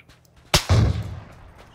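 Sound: gunfire in a video game

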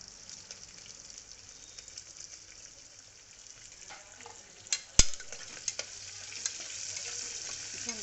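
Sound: sliced onion frying in oil with whole spices

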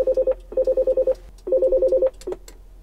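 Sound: intercom call tone in a Mercedes Sprinter VIP van

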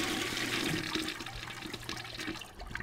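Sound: toilet flushing in the video game Death Flush

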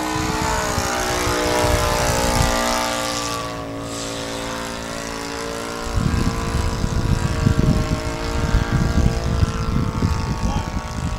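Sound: Extra aerobatic RC model airplane taking off and flying

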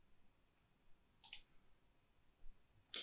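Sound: mouse click on a button

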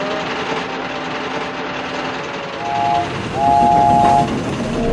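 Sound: train rolling along railway

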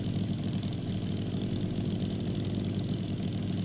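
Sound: motorcycle engine and exhaust in video game Night of the Dead

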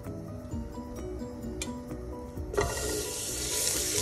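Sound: butter melting and sizzling in oil in a pan

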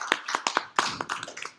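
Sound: congregation clapping hands

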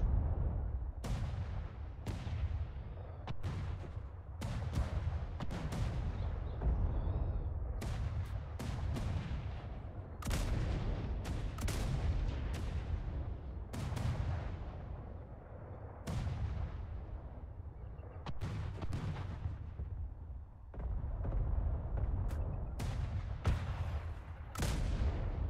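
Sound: ship cannon fire in the video game ATLAS

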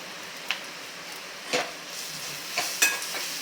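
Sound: mixing cabbage paratha filling with ginger and salt

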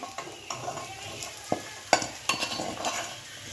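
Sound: frying boiled prawns in a pan

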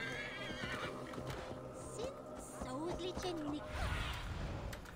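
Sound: horse neighing in the video game Assassin's Creed Valhalla

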